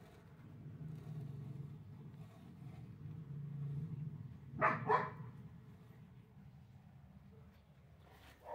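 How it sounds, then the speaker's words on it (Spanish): A female dog barks twice in quick succession at a distance, over a low background rumble, with a faint sound after a pause. "Ladra la perra"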